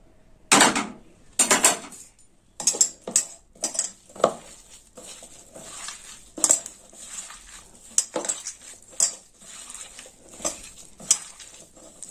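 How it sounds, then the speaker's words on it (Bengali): Banana flower is mixed by hand with ground coriander paste in a bowl, producing close, irregular clinks and knocks against the bowl in repeated bursts with soft squelching between them, with no voices. "এবার ভালো করে মোচাটা মেখে নেব"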